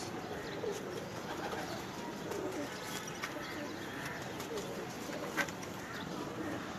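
Pigeons coo quietly on a rooftop loft beneath a steady wash of outdoor noise, with a few faint bird calls and a short knock near the end.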